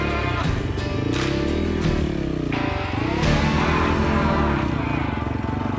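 A dirt bike engine labours on a rocky mountain trail, droning steadily and close with repeated revs and throttle swells, and scrapes and clatter from the bike working over rocks.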